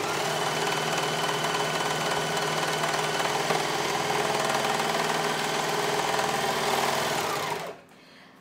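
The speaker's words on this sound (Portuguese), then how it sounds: "o legal de estar usando a overlock é o seguinte... Eu não preciso estar cortando os tecidos, porque ela já faz o corte" An overlock serger stitches and trims pieces of fabric scraps for a patchwork curtain in a workshop, a loud, steady high-speed mechanical whir running continuously for several seconds before cutting off abruptly near the end.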